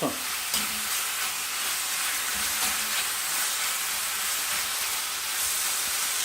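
Beef and onions searing in a hot wok, a steady loud sizzle and hiss with occasional stirring scrapes throughout, no voices.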